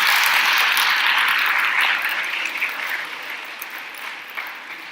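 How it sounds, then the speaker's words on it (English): Audience applause closing a panel discussion on getting college students to vote, a dense steady clapping that fills the room and slowly thins out toward the end, with no voices over it. "let me ask for one more round of applause for our panelists"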